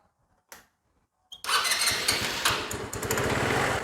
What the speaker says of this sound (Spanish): vamos a prender nuestra motocicleta